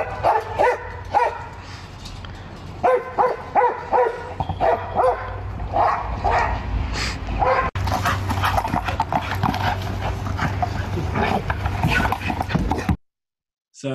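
Kobe the dog vocalizes excitedly while chasing a toy, giving rapid bursts of barks, yelps and panting in a close, loud, irregular stream that grows more continuous toward the end before cutting off.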